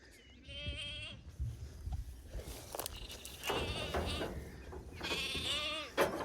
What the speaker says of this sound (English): Here's the lambs again.